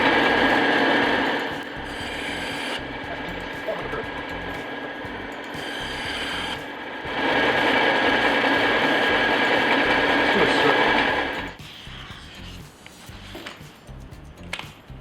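A bandsaw cuts foam in a prop shop, a loud steady whining buzz that runs for several seconds, drops slightly, surges again, then cuts off into quieter room noise.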